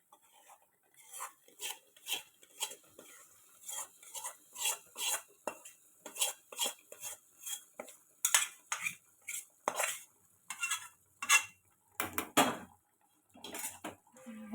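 Bajra khichdi stirred into a hot tempering in a kadhai, a metal spoon scraping and clinking against the pan in quick repeated strokes, close and clear with no talking.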